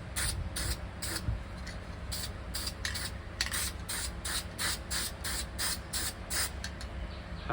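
High heat paint sprayed from an aerosol can over welded areas on a Monte Carlo floor shift setup, heard as a series of short hissing bursts repeating irregularly over steady low background noise.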